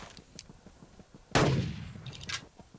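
A single loud rifle gunshot in the Carnivores dinosaur-hunting game, a sharp close crack with a rolling tail that fades over about a second, against faint ambient background.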